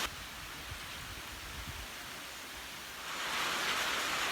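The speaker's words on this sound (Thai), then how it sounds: "ฝนตกหนักมากเลย" Heavy rain pours down in a dense, steady hiss that grows louder and fuller toward the end, with no voices over it.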